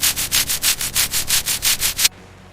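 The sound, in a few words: brushing rust off a Ferrari's floor pan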